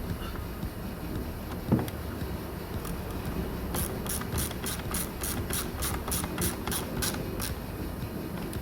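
A ratchet clicks in a quick, close, even run of about a dozen ticks while screws are tightened on a 2013 BMW 1 Series side repeater, preceded by a faint knock and low handling noise.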